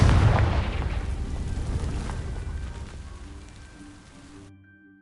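A Confringo fire spell in Hogwarts Legacy ignites dry vines, opening with a loud booming burst that settles into a long crackling rumble and fades out over several seconds.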